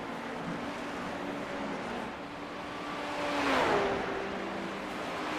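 A Porsche and a Cadillac race car running on track in a sprint series race: a steady, moderately loud engine drone whose pitch sweeps and shifts near the middle as the cars pass or change gear.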